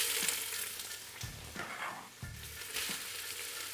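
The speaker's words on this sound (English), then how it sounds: "Gotta love that sizzle." Bell pepper and onion sizzle in hot oil for chili, a constant crackling hiss with a few scraping stirs of a utensil in the pan.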